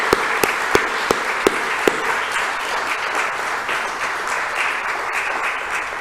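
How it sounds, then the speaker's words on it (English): Applause from the audience at the Australian of the Year Awards in the Australian Capital Territory, a full, steady roar of clapping, with a few sharp louder claps standing out near the start. "And a round of applause for our 2021."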